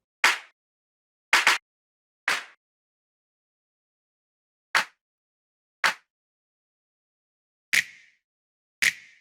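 Layered clap samples for a nu disco track, played one by one as seven short, crisp hand-clap hits separated by silence, some doubled or carrying a brief tail, dry and close.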